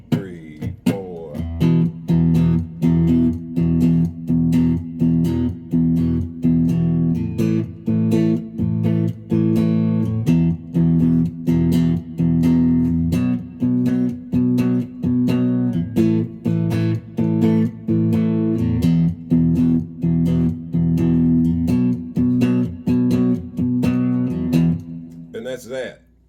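Electric guitar with a slightly distorted tone strums an 8-bar blues-style progression in E, moving between the one, four and five chords in steady rhythmic strokes, loud and close, with no talking over it.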